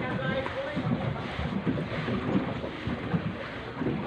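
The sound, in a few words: wind blowing while out on a boat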